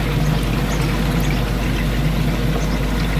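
Water and algae flush steadily out of a koi pond filter, a continuous close gushing pour with a low rumbling undertone and no pauses.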